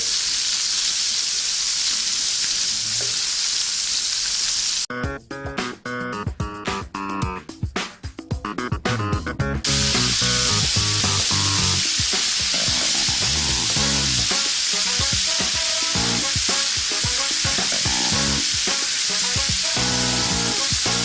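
Sea scallops sear in a hot pan with oil, a loud continuous close sizzle and hiss; the sound cuts sharply into bursts partway through, then a dense, even sizzle returns and holds.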